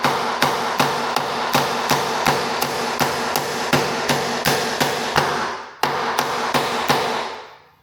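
Hammer tapping a stuck Jeep door hinge, a steady run of about fifteen sharp metallic blows at an even pace with a brief pause near the end, close and loud.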